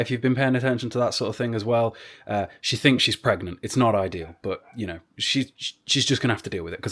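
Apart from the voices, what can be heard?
No everyday noises stand out.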